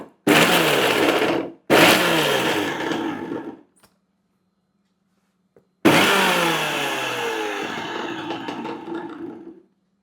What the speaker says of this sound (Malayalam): ഇതൊന്ന് മിക്സിയുടെ ജാറിലിട്ട് നമുക്ക് കറക്കിയിട്ട് വരാം.